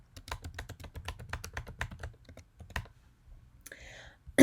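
Rapid keystrokes on a computer keyboard, a fast irregular run of light clicks for about two seconds, then sparser taps and a brief soft voice near the end.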